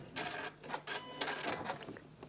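Sewing machine stitching William Morris tapestry fabric, a quick run of rattling, stop-start bursts up close at low volume.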